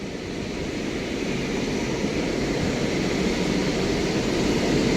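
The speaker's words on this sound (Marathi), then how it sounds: "आता इकडनं एखादं विमान येईल बघा." A jet airliner roars loudly and steadily near Mumbai international airport, heard from a hill above the Kurla slums as a broad, continuous rumble with no voices.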